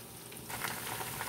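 Chicken and potatoes frying in a pan for a honey chicken dish, a steady close hiss and sizzle that swells louder partway through.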